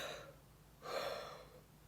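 A tired person yawns twice, a short breathy intake followed by a longer, louder open-mouthed exhale, close and alone with no talking.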